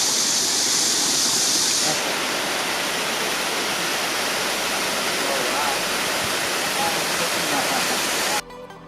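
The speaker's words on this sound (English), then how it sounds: "this waterfall is the only waterfall in Asia that falls into the ocean" A waterfall on Jeju Island that drops into the ocean roars as a dense, steady wash of rushing water, loud and unbroken, fading abruptly near the end.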